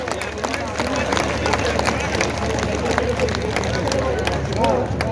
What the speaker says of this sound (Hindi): तो जरा ताली बजा के जरा दीघा को दिखाओ